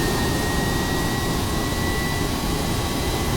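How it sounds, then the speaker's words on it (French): An aircraft rolls along a runway with a loud, steady jet whine and broad roar, constant and close, with a thin high tone running through it and no voices. "Kittori est en train de rouler le long de la piste."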